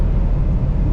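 A BMW car at full throttle around 140 to 150 km/h, heard from inside as a loud, dense, continuous low engine and road roar with no talk over it.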